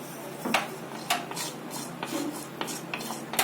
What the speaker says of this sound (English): Now I'm adding mustard seeds, around half teaspoon, and then I'll just mix it.